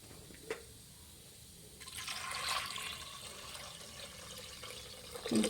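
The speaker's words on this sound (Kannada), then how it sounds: "ಈಗ ಒಂದು ಅರ್ಧ ಲೀಟ್ರಿಗಿಂತ ಜಾಸ್ತಿ ನೀರು ಹಾಕ್ಕೊಳ್ಳಿ ಫ್ರೆಂಡ್ಸ್." Water poured into a pressure cooker holding toor dal, tamarind, chillies, tomato and turmeric, a steady splashing fill that swells midway and trails off, with a clink at the start and end.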